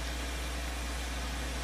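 Tractor engine idling steadily in Farming Simulator 2013, a constant low droning hum with a dense, unchanging mechanical texture and no voices.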